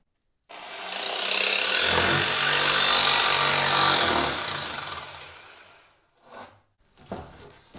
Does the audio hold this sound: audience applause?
no